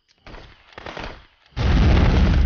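A grenade blast in the game Contraband Police, heard as rumbling bursts followed by a loud, sustained roaring explosion that fills the end of the moment, close and heavy.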